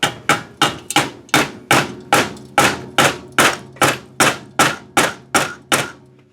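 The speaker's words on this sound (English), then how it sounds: "Get ball peen hammer." A ball peen hammer taps metal during assembly of a 1985 Honda ATC 250R ATV, about fifteen sharp, evenly spaced strikes ringing briefly, close and loud with no talking.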